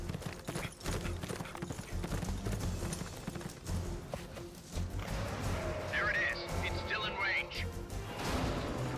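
Rhythmic clip-clop of horse hooves in Metal Gear Solid: Peace Walker, over a busy game soundscape with a distant crash; voices speak over it.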